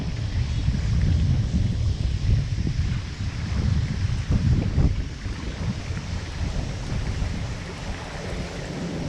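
Strong wind gusting over the Mississippi River during fishing before a hurricane, a steady loud roar with buffeting on the microphone and faint water movement beneath, no voices.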